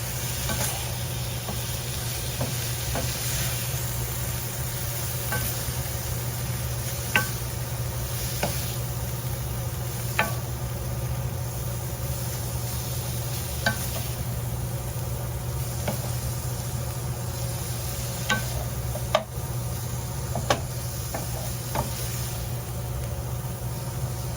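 Peppers and onions sizzle steadily in a pan over turned-down heat while being stirred, with occasional sharp clicks and knocks of the utensil against the pan over a continuous hiss, and no one speaking.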